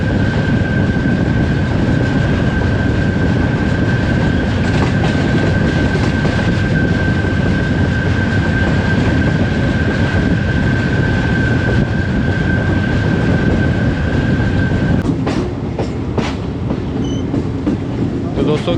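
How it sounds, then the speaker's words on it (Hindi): The Karachi Express passenger train, hauled by a Blue Tiger AGE30 locomotive, rolls slowly into Multan with a loud, continuous rumble and steady rail noise, a sustained tone running through it and a few sharp clicks near the end. "अब कराची एक्सप्रेस आहिस्ता आहिस्ता सरजमीन ओलिया मुल्तान शहर में दाखिल हो रही है"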